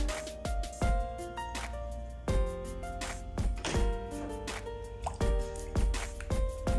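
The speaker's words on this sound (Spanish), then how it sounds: "Vamos a agregarle el jugo de 3 limones." Juice from three limes drips and plops into a dish of onion salsa in a steady series of wet, separate drops, close and fairly clear with no talk.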